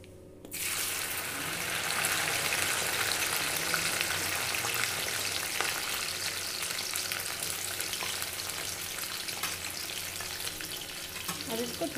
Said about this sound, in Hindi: अब हम बचा हुआ जो भिंडी था उसको भी ऐसे ही फ्राई कर लेंगे।